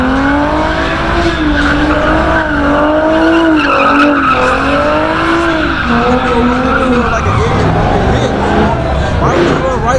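Cars spin donuts at a Chicago street gathering, their tires squealing in long, wavering, wailing tones over engine roar and a loud crowd's babble.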